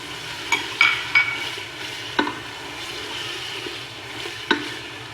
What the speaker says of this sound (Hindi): चिकन को हम फ्राई कर लेंगे जब तक इसका कलर वाइट नहीं हो जाएगा